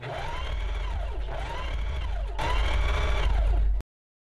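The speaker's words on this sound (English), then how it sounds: "I'm just going to go and sew my front and back waistband together along either short side" A sewing machine stitching the short sides of a knit front and back waistband together, running as a steady continuous mechanical whir for nearly four seconds, with slight surges in speed, then stopping abruptly.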